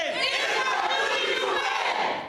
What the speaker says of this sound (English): A large crowd of protesters gathered outside of the Allegheny County Courthouse